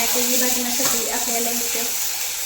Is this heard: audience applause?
no